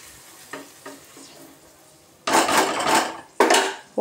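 Chicken fried in a pan with milk added, first a few light taps and scrapes, then loud bursts of sizzling and stirring.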